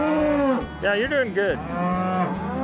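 Cattle and a calf moo loudly and close by at a horse and cattle working course, with several long, bending calls in a row and someone speaking briefly between them.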